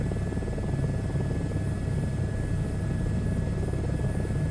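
A helicopter flies in Microsoft Flight Simulator 2024, producing a constant loud rotor thump and engine whine with a steady high turbine tone and no variation.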